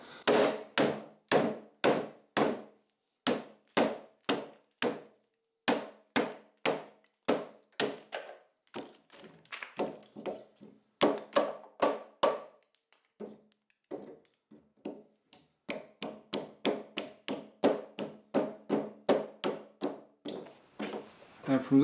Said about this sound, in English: you're going to take your hammer and start cracking.